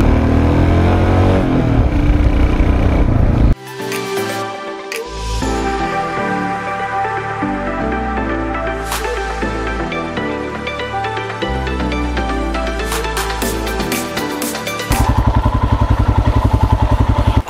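Motorcycle climbing a steep road in first gear toward Hidimba Temple during a Ladakh bike trip, its engine loud and close, labouring and revving unevenly with clattering thumps as the pitch shifts.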